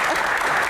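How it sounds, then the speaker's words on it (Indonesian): A studio audience at a music talk show with a band bursts into loud, close applause, a dense continuous patter of clapping hands. "Boleh tepuk tangan"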